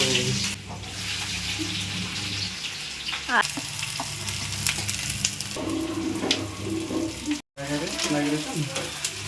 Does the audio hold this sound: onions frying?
yes